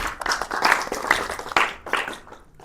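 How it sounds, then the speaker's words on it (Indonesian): Classmates clapping in a classroom, a dense patter of many hands that swells and dips in uneven bursts over a couple of seconds, fairly close and with no talking over it. "udah tepuk tangan temannya"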